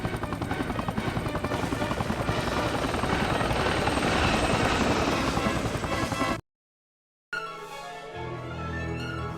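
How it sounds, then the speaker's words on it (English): A loud video game helicopter in Spider-Man 2 thrums steadily up close, then cuts off briefly into silence before a different droning engine tone resumes. "if you're gonna shoot this helicopter down"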